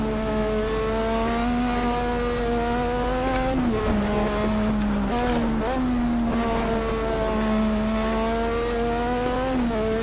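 A Formula 1 car in the racing game Assetto Corsa laps the Nürburgring Nordschleife. Its engine whines steadily and loudly, dipping in pitch through gear shifts and braking, with a voice talking over it.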